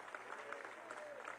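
Brief, faint applause from an audience at a Venezuelan presidential council broadcast, a soft wash of clapping heard at a distance.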